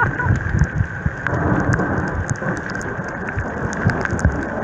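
Heavy rain pours down along the seafront at Marmaris, Turkey, in December, making a dense, steady roar of drops striking the surfaces close by, with no voices.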